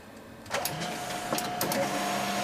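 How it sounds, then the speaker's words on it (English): A printer works in the background, quiet mechanical whirring with a few short rasping passes and a faint steady hum. "You probably can hear the printer in the background."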